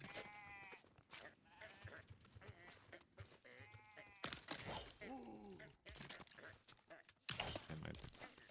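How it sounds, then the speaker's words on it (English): Goats on a homestead let out several loud, wavering bleats in bursts across the scene, mixed with nearby voices talking and some clattering and footsteps. "goats are vocal today, aren't they?"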